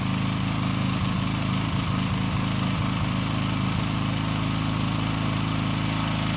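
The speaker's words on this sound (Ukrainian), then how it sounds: "то вже запустився двигун, і добитися стабільної роботи двигуна" A petrol generator engine runs steadily with a loud mechanical drone, its rough idle punctuated by a few irregular sputters early on before it settles into an even hum.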